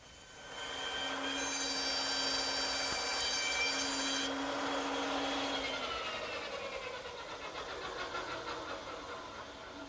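A handsaw cuts the end and cheeks of a wooden tenon for a console table, giving a steady, close rasping stroke that runs almost the whole clip, louder at the start and easing slightly toward the end.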